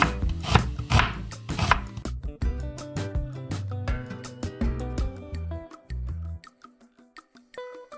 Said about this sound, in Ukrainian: Наріжемо поки цибулю.